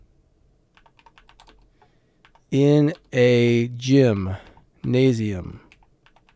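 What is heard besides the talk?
typing on a computer keyboard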